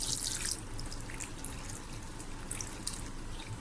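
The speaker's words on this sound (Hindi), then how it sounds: "तकरीबन ये मैंने ½ लीटर पानी ऐड कर दिया इसमें।" Water being poured into a cooking pot with potatoes makes a faint, steady splashing stream. Brief brighter spatters come and go over it, with no talking.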